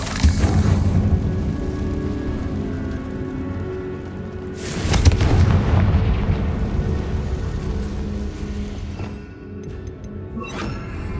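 A Confringo fire-blast spell explodes in Hogwarts Legacy, a loud booming burst around the five-second mark over a steady rumbling game ambience, with a sharper crackle near the end.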